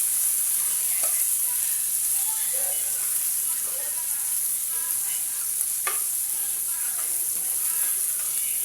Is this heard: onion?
yes